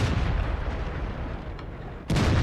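A tank cannon fires in World of Tanks, a loud low boom that cuts in abruptly near the end over a rumbling engine and battle noise.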